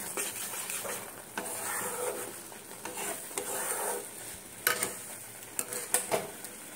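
Amla mixture being stirred as it cooks down in a pan, giving scraping utensil strokes and soft sizzling, with a few sharper clinks of metal against the pan toward the end; no talk.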